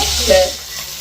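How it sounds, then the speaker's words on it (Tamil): Chicken curry bubbling and sizzling in a pan, a steady close frying hiss with a brief louder spit near the start. "சிக்கன் கறி பாருங்க கொத கொதன்று கொதிக்குது"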